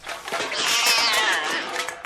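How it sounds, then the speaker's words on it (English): A cat hidden inside a bag lets out a single drawn-out, plaintive meow, close and fairly clear, lasting about two seconds. "Who let that cat in here? It was in the bag"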